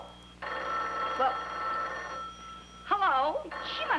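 An old telephone bell rings in a long continuous burst in an apartment room, then a voice speaks briefly, and a second voice follows.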